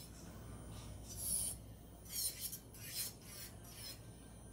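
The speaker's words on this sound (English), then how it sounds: "this is just light drill work" An electric nail drill works lightly over an acrylic nail surface, a soft raspy buzzing that swells in short passes about a second apart, close and quiet with no talking.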